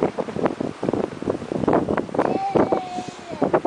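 Cold wind gusts across the microphone outdoors in the snow, a rough, buffeting roar, with faint voices and a thin whistling tone in the background.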